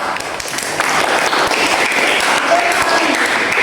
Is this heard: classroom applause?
yes